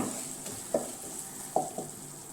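Curry leaf pickle being stirred in a pan, with a few soft scraping strokes and faint sizzling at a slow, uneven pace, close and quiet.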